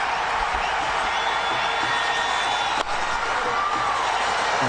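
Cricket match crowd at Pallekele, a steady broad hum of spectators filling the stadium with a sharp knock partway through, under commentary.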